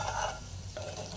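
Homemade ghee stirred in a pan over a medium flame, a steady bubbling sizzle close up with soft scraping of the spoon that dips briefly and then resumes.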